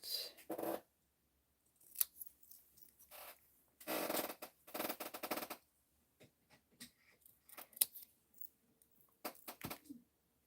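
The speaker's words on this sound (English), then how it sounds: "And then I'm going to get my scissors." Repeated crisp snips of scissors cutting, in short irregular bursts with quiet pauses between them, close by.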